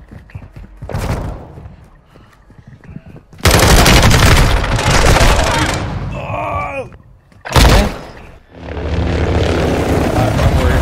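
Loud bursts of automatic gunfire and single shots in a Call of Duty–style battle royale match, heavy and close, broken by short gaps.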